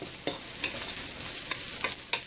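Chopped onion sizzles in a pan over high heat for Indo-Chinese baby corn Manchurian, a bright steady hiss punctuated by several quick scraping stirs of a spatula, with no voices.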